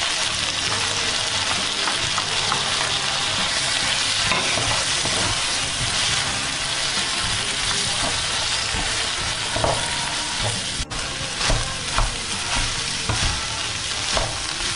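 Crab meat hits a hot pan with other fried rice ingredients and is stirred, giving a steady close sizzle and crackle with occasional scraping clicks of the spatula, no talking.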